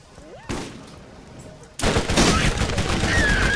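Gun battle in Borderlands against bandits, a loud sustained burst of rapid gunfire erupting after quieter scattered shots, with a voice faintly present beneath.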